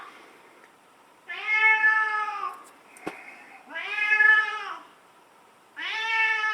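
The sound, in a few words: cat meowing in the background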